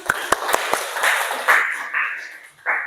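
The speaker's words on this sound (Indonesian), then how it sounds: "Ya, tepuk tangan." A class clapping hands during a classroom teaching practice, a few sharp separate claps followed by short bursts of group clapping, close and fairly loud, with faint voices mixed in.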